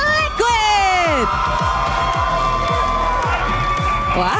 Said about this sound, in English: Wow, the crowd goes wild.